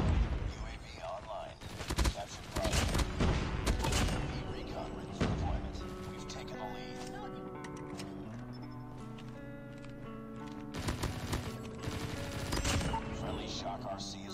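PPSh-41 submachine gun in Call of Duty Mobile firing loud rapid bursts in the first half, then softer scattered shots over a layer of music and game tones, with bursts returning near the end.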